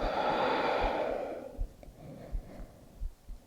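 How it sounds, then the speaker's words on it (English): A slow yoga breath is heard up close: a long, airy exhale fades out, followed by soft quiet breaths and faint low thumps. "Take 3 cycles of breath here and see again if you can mark each cycle anew."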